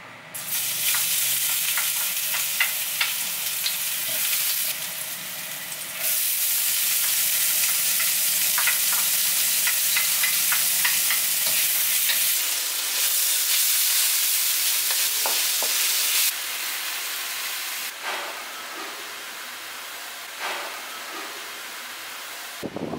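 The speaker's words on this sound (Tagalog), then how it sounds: "ipiprito natin yung isda" Fish frying in a pan, a loud steady sizzle and crackle lasting throughout with spatter bursts and shifts in intensity as it is moved or stirred, close up and without speech.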